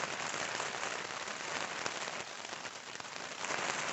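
Steady, dense rain pattering close on a tent or gear at camp on Vermont's Long Trail, loud and unbroken, without voices.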